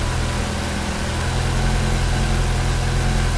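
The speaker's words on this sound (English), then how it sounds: "I feel the engine shaking." A car with a check engine light and loss of power idles roughly, a steady low engine drone with slight uneven pulsing and vibration, continuous and alone without talk.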